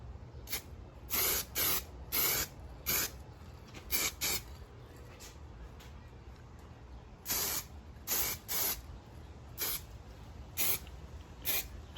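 Bursts of black SEM trim paint sprayed from an aerosol can, a dozen or so short hissing passes in an uneven rhythm with brief pauses between them, close and fairly loud against a quiet background.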